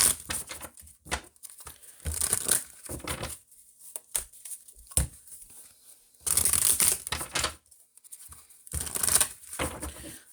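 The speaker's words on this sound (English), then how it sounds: "let me shuffle these" Tarot cards being shuffled, bursts of riffling and flicking separated by short pauses, close and fairly quiet.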